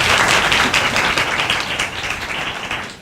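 Sustained crowd applause at a student talk show event on campus, dense steady clapping from many hands throughout, fairly loud and fading slightly toward the end.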